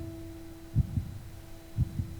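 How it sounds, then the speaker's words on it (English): A slow heartbeat sound effect thumps in a film soundtrack, two paired low beats about a second apart over a steady electrical hum. "I like the heartbeats."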